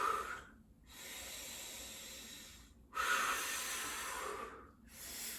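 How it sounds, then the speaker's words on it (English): Three slow, deep breaths during a glute-strengthening floor exercise, close and soft, each a long airy inhale and exhale separated by brief pauses, with no talking. "We'll take 3 deep breaths."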